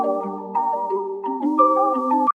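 A pitched-down bell loop for a wavy trap beat plays alone, its clean, sustained melodic tones changing pitch every half second before cutting off abruptly.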